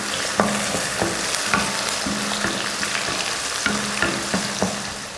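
Small shallots, garlic cloves and curry leaves sautéing in hot oil for a crab masala, a constant close sizzle with regular spatula scrapes against the pan.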